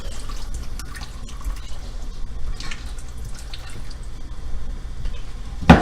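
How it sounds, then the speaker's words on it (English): Water from a kitchen tap runs into a sink drain as cooked whole wheat pasta drains, a steady close splashing wash with scattered drips, ending in a brief louder clunk. "I like to run a little water down the drain, so I run some water while it's draining."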